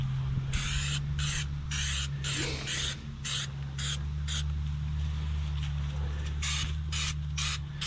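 Spray coating is applied inside the tank of a wood chipper in a series of loud hissing bursts of varying length, with a steady low mechanical hum running underneath throughout.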